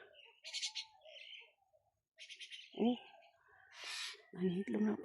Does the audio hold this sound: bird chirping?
yes